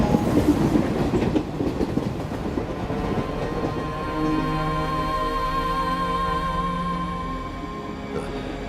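A train rolls along its rails, heard from on board as a loud, continuous rumble with rhythmic clickety-clack and a low droning hum that holds steady throughout.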